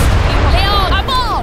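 Artillery fire in Age of Empires III during a siege of a Spanish fortress: heavy, booming cannon blasts rolling continuously under game voices and whistling, loud and close throughout.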